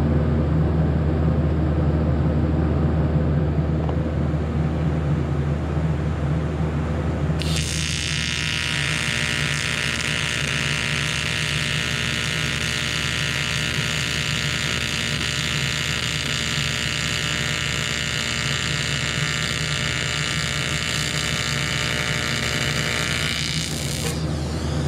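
A Miller Syncrowave 250 transformer welder running a test weld on aluminum, a low electrical hum that turns into a loud, even buzzing hiss lasting about seventeen seconds and then stops abruptly.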